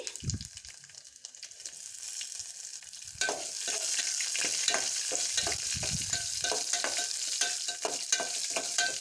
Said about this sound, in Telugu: దంచుకున్న వెల్లుల్లి రెబ్బలు, కాసింత కరివేపాకు, ఆనియన్ ముక్కలు వేసి ఫ్రై చేసుకోవాలి.